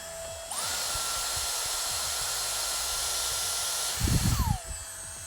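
A Dyson Airstrait hair straightener switches on at its low setting with a sharp rising whine, holds a steady high-pitched airflow hiss for about four seconds, then winds down. A brief burst of handling noise comes just before it stops.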